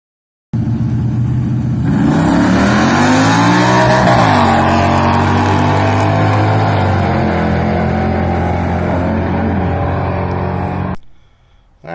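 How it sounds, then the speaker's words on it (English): A 1980 Trans Am makes a nitrous-assisted drag racing pass, its V8 roaring loud and near as it launches and climbs through the gears with rising pitch, then fading sharply at the end. "Alright, so here's my nitrous pass."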